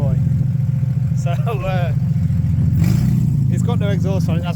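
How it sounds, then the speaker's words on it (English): A car engine with no exhaust fitted revs loud and raw, its steady rumble rising in sharp bursts, while people talk over it. "it's got no exhaust on it, that's why it's just loud as anything"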